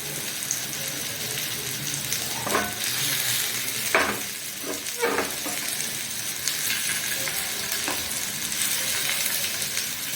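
Paneer frying in a pan, a continuous bright sizzle with a few soft clinks and stirring touches. No one talks over it.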